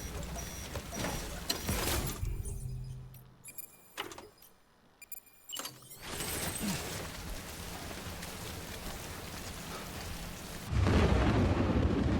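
Rain in the Death Stranding video game patters steadily in a wet hiss, broken by a few sharp thumps and a quieter gap in the middle, then swelling louder near the end; no one speaks.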